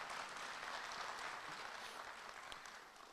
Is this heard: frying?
no